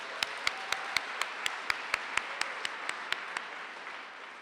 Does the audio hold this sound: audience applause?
yes